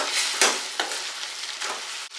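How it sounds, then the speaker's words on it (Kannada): Fried masala being stirred into chicken in a pan for spicy pepper chicken, with a soft sizzle under repeated scraping strokes of a spoon, close and steady, no voices. "ಈಗ ನಾನು ಅವಾಗ ಫ್ರೈ ಮಾಡ್ಕೊಂಡಿರುವ ಮಸಾಲೆನ ಹಾಕಿ ಹಾಕಿಟ್ಕೊಂಡಿದ್ದೆ ಅದನ್ನು ಈಗ ಮಿಕ್ಸ್ ಮಾಡ್ತಾಯಿದ್ದೀನಿ"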